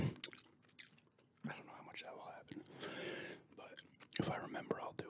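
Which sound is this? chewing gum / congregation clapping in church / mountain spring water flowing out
chewing gum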